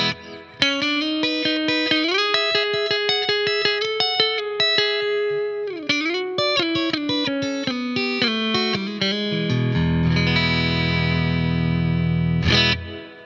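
Electric guitar playing a melodic line and chords through the spring reverb of a Blackstar AMPED floorboard amp with decay turned fully up, notes ringing out and a final chord swelling into a long, washy tail.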